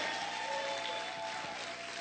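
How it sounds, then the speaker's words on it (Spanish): A church congregation applauds during a Spanish-language sermon, a steady, dense wash of clapping heard at a distance and fairly faint, with no single claps standing out. "Vamos a gritar y aplaudir fuerte al Señor."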